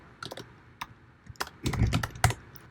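Keystrokes on a computer keyboard while coding a web app, a run of separate clicks and clacks close by, scattered at first and then quicker and denser toward the end, with no talking.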